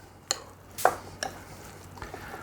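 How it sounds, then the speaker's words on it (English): A spoon stirring a bowl of chicken salad: a few soft scraping and tapping knocks against the bowl, spaced out and close, with quiet moments between them. "Then I'll stir this up again."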